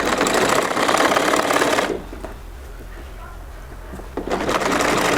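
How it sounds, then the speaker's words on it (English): A sewing machine stitches a native trousers pocket in loud, steady bursts: a long run, a pause with quieter handling, then the motor racing again. "Sewing machine."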